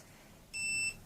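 A multimeter continuity tester on an Onkyo TX-SR605 receiver's circuit board gives a single short, steady high-pitched beep of under half a second against quiet room background.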